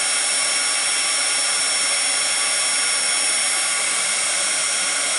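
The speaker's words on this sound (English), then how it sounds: "you want to get your heat gun nice and hot first before you bring it over to your stamped image" Heat gun blowing hot air for embossing, with a steady, loud, unbroken fan-driven whoosh that stays constant throughout.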